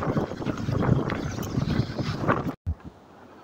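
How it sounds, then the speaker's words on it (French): Loud, steady wind buffeting the microphone on a canal bank in Narbonne, with a low roar that cuts out briefly near the end. "Encore du vent aujourd'hui."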